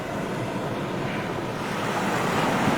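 Waves washing at the seaside form a steady, dense roar of surf with wind noise over the microphone, holding an even loudness and rising slightly at the close, no talking.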